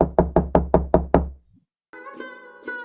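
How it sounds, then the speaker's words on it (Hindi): Six firm, evenly spaced knocks on the door of a mansion by an old woman, loud and close, followed after a short silence by a sustained musical tone. "सुखीलाल के आलीशान घर का दरवाजा खटखटाती है।"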